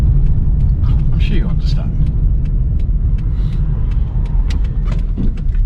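Interior of a 1985 Ford Fiesta 1.1 Popular Plus driving over a rough road surface, a loud steady low rumble of tyres and engine with scattered rattles and knocks, while a person talks over it.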